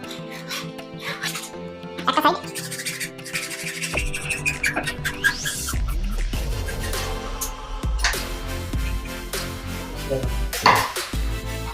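Scraping and cutting on household electrical wiring, with rough rasping strokes and clattering handling noises in uneven bursts, fairly close and without speech.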